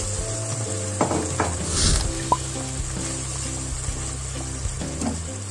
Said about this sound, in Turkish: Şimdi üzerine sıcak suyumuzu ekliyoruz.